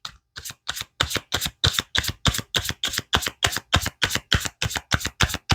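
Tarot cards shuffled in a fast, steady run of crisp riffling bursts, close and loud, with no talk.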